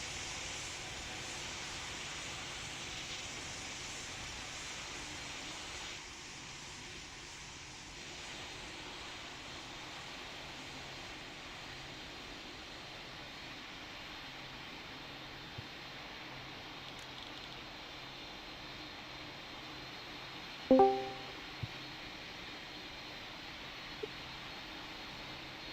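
Airliner engines in Pilot Training Flight Simulator hold a steady, faint broadband roar throughout, with a short click and a couple of small taps near the end and no talk.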